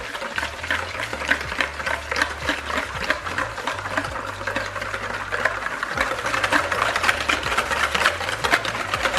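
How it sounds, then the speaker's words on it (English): Brownie batter with cocoa powder being mixed in a bowl, a steady busy stirring and scraping texture with rhythmic strokes running throughout at close range, no talking. "So just make sure you mix that up."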